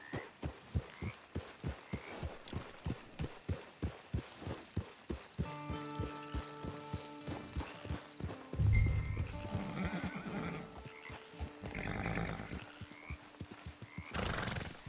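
A horse in the Red Dead Online video game walks with steady, evenly spaced clip-clop hoofbeats, then gives a loud, close whinny and snorts before the hooves resume, with no talk over it.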